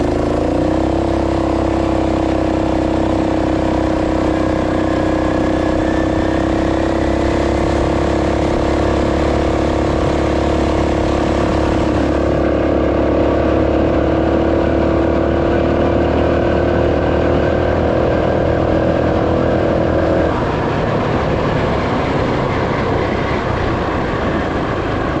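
A Roko Ranger 2WD off-road bike rides in second gear, its motor giving a steady, loud droning whir with a sustained mid-pitched tone throughout, shifting slightly in character partway through and continuing without pause.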